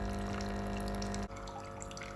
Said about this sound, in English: my sterilising fluid and water mixture is dispensing into my jug